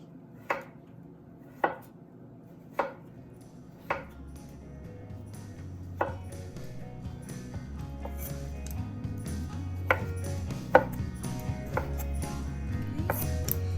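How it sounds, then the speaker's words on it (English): A kitchen knife chops cucumbers on a cutting board: a few spaced, crisp knocks at first, then quicker, lighter taps over a low steady background hum, close-up and with no talk. "I'll use the knife here to finish the rest of the cucumbers"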